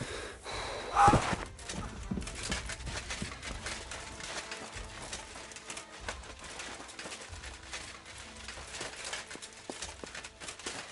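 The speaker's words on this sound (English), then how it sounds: "The horses are here." Horse hooves clop in a steady rhythm in a video game, over a busy background of rustling and movement, moderately loud and continuous, with a brief louder burst near the start.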